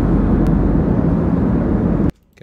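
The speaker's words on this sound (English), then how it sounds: "Then I have my airplane noise." Steady broadband airplane roar, loud and constant like cabin engine noise, cutting off abruptly near the end.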